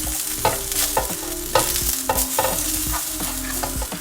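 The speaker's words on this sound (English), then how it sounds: "And then just give it a quick stir" A spoon scrapes and stirs tomato puree in a hot frying pan, rhythmic clacking strokes roughly every half second over a steady sizzle, close and clear with no talking.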